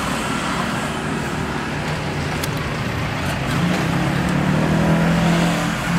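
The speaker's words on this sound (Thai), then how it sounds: "เดี๋ยวเรามาฟังเสียงเครื่องกันดีกว่า" A 2015 Ducati Monster 821 motorcycle idling close by with a loud exhaust, a steady low engine rumble that swells slightly toward the end, with no talking.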